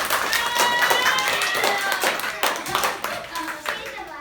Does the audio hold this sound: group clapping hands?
yes